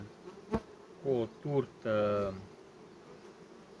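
Honey bees buzz steadily around hives as two bee colonies are being united. The faint, constant hum runs under a man's brief speech.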